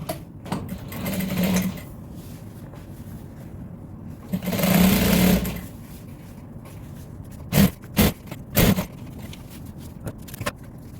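Sewing machine running in short bursts while stitching the straps and handles for a lined hair bonnet and apron, with a longer run near the start, another in the middle and several quick stitches toward the end, close up with no talking.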